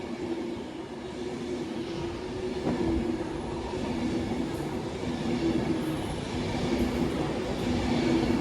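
Class 390 Pendolino electric train, unit 390050, passing through Cheadle Hulme station, a steady broadband rumble and rush of wheels on rails that swells slightly toward the end, continuous throughout.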